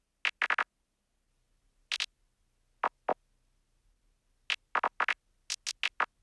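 Generative synth sequence triggered from a MIDI controller: sparse, short percussive blips in irregular clusters with gaps of silence between them, fairly close and clean.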